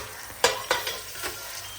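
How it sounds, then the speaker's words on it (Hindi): Onions frying in a pot while being browned to golden, a soft sizzle under a few distinct stirring scrapes and clinks, close and fairly quiet, with no one speaking. "उसमें मैंने अनियंस डाले हैं और मैं गोल्डन कर रही हूँ"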